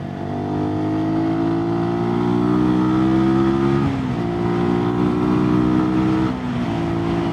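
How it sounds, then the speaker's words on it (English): A 2022 Sinnis SM-R 125 motorcycle engine revs through the gears while riding, its pitch climbing steadily, dropping sharply at two gear changes and climbing again, loud and close with wind noise. "these engines, they do tend to sound higher revving than they actually are"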